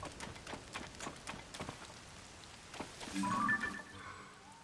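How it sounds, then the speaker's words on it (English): Rain falls in The Legend of Zelda: Tears of the Kingdom, a faint, steady patter with soft drops and a brief chime from the game near the end. "It's raining."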